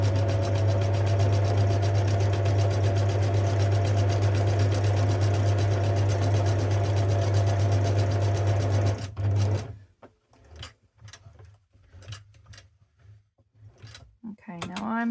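A sewing machine zigzag-stitches fabric for an envelope pouch with a loud, steady mechanical whir for about nine seconds, then stops, leaving faint clicks and handling noises.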